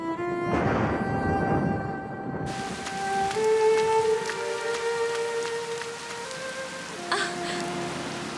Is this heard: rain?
yes